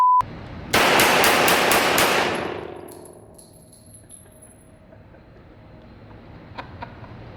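A Colt handgun fires a rapid burst of about six sharp shots at targets, loud and close, followed by a long fading ring and a few faint clinks.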